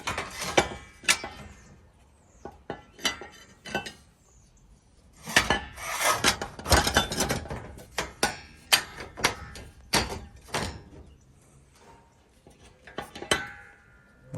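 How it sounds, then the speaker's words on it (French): K2 Systems aluminium mounting rails are pushed into a rail junction kit during a solar panel install, giving a series of sharp metallic knocks, scrapes and clanks in irregular bursts, close and loud, with quiet gaps between. "Donc on vient tout simplement insérer les rails dedans."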